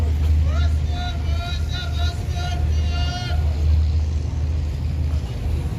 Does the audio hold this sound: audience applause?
no